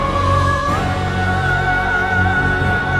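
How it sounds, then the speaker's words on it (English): Aldrich boss theme from Dark Souls 3, orchestral game music with dense, sustained low strings and brass under a steady high held line, loud and continuous without pause. "Put those two together and you'd get something that sounds like this, Aldrich's theme."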